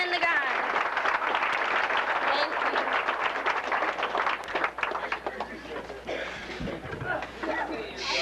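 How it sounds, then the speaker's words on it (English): A crowd of audience members claps in sustained, dense applause that stays loud and even before thinning out near the end, with some voices mixed in. "giving them both a big round of applause, both sides, the girls and the guys"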